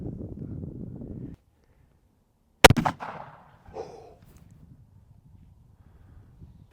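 A single loud, close .30-06 deer rifle shot fired outdoors at a hay bale, a sharp crack with a short rumbling echo trailing off after a brief hum beforehand.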